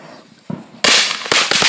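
A whole box of firecrackers goes off in an outdoor fire, starting with a small pop and then erupting into a loud, dense barrage of overlapping bangs and crackles that keeps going without letting up.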